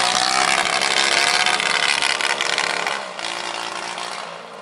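A carbureted engine runs close and loud with a ragged, uneven buzzing drone, its level sagging partway through as it stumbles, and no talk over it.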